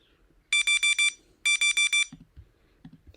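Timer alarm beeping in two quick bursts of four loud, shrill electronic beeps, then cut off, followed by faint low thumps.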